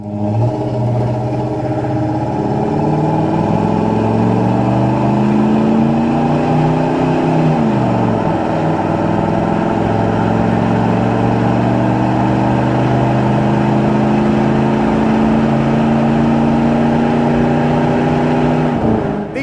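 A 1990 Ford F-150 XLT 4x4 pickup's 5.8-litre V8 with automatic transmission revs up with rising pitch, dips as it shifts, then pulls steadily again, close and rumbling throughout.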